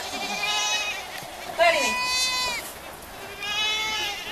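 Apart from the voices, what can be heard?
goats bleating while running out to pasture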